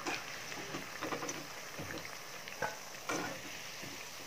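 Banana flower vadas fry in hot oil, giving a soft, steady sizzle and bubbling with a few light clinks of a utensil, close and fairly quiet.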